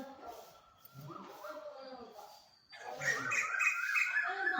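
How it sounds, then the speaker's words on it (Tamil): Parrots, sparrows and crows calling from a large banyan tree, a mix of chirps and harsher squawks at moderate distance that grows louder and busier toward the end, with no one talking. "அந்த கிளி கத்துறது குருவி கத்துறது காக்கா கத்துறது"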